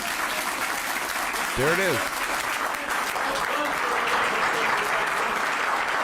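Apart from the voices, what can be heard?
audience clapping after Bill Clinton's speech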